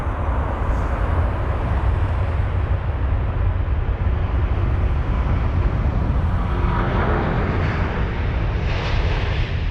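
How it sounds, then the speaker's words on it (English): A brand-new Airbus A350-1000 rolls down the runway at London Heathrow, a loud, broad jet roar holding steady throughout with a faint rising whine near the end, no voices. "Here it is, A350 rolling down."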